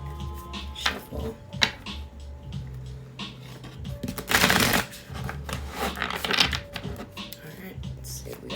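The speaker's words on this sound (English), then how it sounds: "Shuffle." Tarot cards being shuffled by hand close up, a series of papery riffles and soft slaps with a louder burst near the middle, with no voices.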